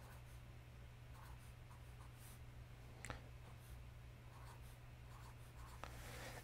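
Someone writes sets of numbers into a table on a board in a quiet room, with faint scratchy strokes and a couple of sharp taps.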